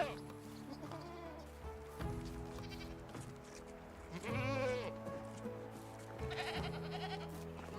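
A goat bleats in the medieval life-sim game Medieval Dynasty, a short wavering animal call rising above steady game ambience and music, with other farmyard animal sounds and some speech mixed in.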